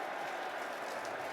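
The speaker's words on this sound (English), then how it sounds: "And the murmur from this crowd" Stadium crowd at an NFL game between the Los Angeles Chargers and Denver Broncos murmuring after a touchdown with a penalty flag, a continuous broad wash of distant crowd noise.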